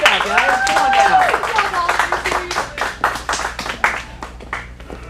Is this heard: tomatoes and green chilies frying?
no